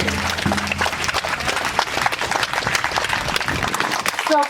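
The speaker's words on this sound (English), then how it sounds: "Give yourselves applause for being here." A crowd at an outdoor community gathering on a hot day breaks into applause, a thick, continuous roar of many clapping hands that holds steady for several seconds before ending abruptly.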